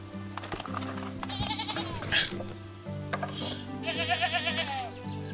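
Sheep in the Medieval Dynasty video game bleat repeatedly in overlapping calls, loud and close, over a steady game soundscape with faint mechanical clicks.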